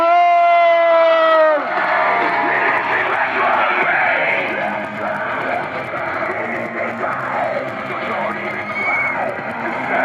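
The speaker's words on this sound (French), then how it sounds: "un tonnerre d'applaudissements pour Maël" A wrestling crowd at an independent show roars, whistles and cheers for a wrestler's entrance, a loud sustained mass of voices and applause following a brief tonal musical sting at the start.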